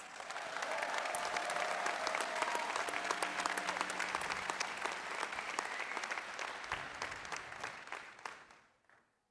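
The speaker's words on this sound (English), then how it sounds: "Let's give Adair and Margaret another big round of applause." A large audience at an MBA commencement ceremony gives a long, dense round of clapping that holds steady for several seconds before thinning out and fading to quiet.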